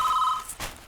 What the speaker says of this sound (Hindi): रुको, मेरा जरूरी फोन आने वाला है, वही होगा।